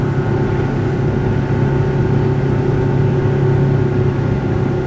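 An Albakore 560 Fish motorboat loaded with four people and a full tank runs at about 3500 rpm and 42 km/h, its outboard engine a steady, loud, close drone with constant pitch and no talking.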